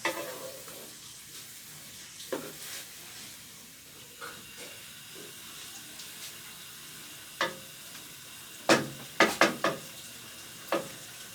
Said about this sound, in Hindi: अब इसे अच्छे से मिक्स करेंगे और थोड़ी देर पकाएंगे।